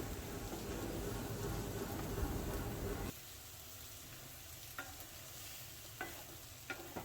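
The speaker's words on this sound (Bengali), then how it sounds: "সবগুলো সবজিকে মিক্সড করে কষিয়ে নিতে হবে" Pointed gourd and potato stir-frying together in a pan, a steady sizzle with stirring that is loud at first, then drops to a quieter crackle with occasional scraping clinks.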